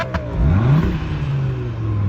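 Car engine revving in a racing video game, a steady mid-pitched exhaust drone with a rising rev sweep near the start, loud and continuous with no talk.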